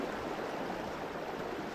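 Strong floodwater current rushing past, a steady, even broadband roar of moving water at low volume with no talking over it.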